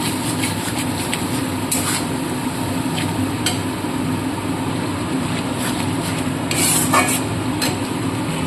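Green chilli and ginger paste stirred in a hot pan while cooking a desi chicken curry, a steady sizzle with scraping spoon strokes and occasional sharper clinks throughout.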